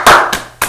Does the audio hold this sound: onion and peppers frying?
no